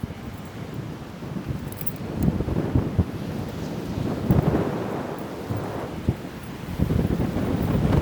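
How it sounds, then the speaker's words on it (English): Strong wind buffets a microphone outdoors on a fine day, a continuous low roaring rumble with gusty surges that rise and fall throughout, loud and close with no other clear sounds. "Yeah, that is super windy."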